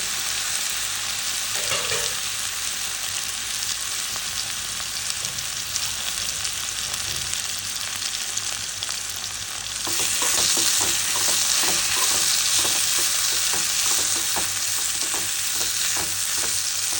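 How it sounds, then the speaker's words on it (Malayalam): Plantain slices frying in ghee and stirred in a pan, a steady sizzle throughout that grows louder and busier in the second half with repeated scraping stirs, no voices. "ഇതേ നമ്മുടെ പാലുവായ്ക്ക വെന്തുകൊണ്ടിരിക്കുകയാണ്"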